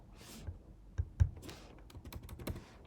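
Close, quiet keystrokes on a computer keyboard, a short irregular run of clicks and taps that grows denser toward the end, with no speech.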